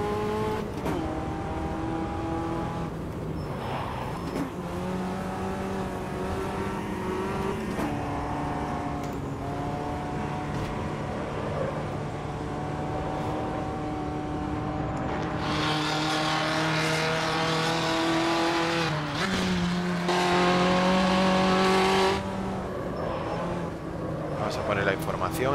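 Race cars in the racing video game Automobilista 2: steady engine drone with rising and falling revs as cars accelerate and shift, a pack of cars close by, with someone talking over it throughout.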